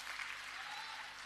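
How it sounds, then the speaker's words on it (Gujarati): A crowd at a political rally applauds, a short burst of steady clapping heard from a distance with no talk over it. "દોસ્તો, જોરદાર તાળીઓથી વધાવો એમને."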